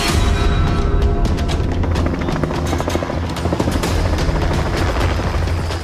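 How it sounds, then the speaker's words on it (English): A helicopter flies over a swamp, its loud continuous rotor thump and engine drone steady and close throughout, with no voices. "hired a local helicopter to see if they can get a better idea of their progress from the air"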